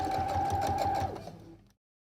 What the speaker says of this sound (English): So place your sewing machine like this.